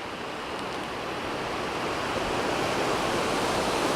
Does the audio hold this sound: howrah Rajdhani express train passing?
no